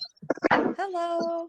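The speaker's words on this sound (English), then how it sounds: "That's the dog who's excited to hear your voice." A dog whimpers and whines excitedly in a rising, drawn-out tone after a brief spoken greeting, close by and fairly loud.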